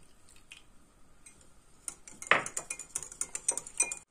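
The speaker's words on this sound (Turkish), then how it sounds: "İki diş sarımsağımızı rendeledik" Two garlic cloves rubbed on a kitchen grater for a Turkish chicken soup give a run of quiet, rhythmic scraping strokes that start after a near-silent opening, close by and faint.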